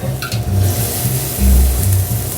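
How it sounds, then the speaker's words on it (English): Vegetable stock is poured into a hot pan for a wild mushroom dish, giving a close, loud sizzle and bubbling hiss with low gurgling pulses as the liquid hits. "this is our vegetable stock that we're adding now"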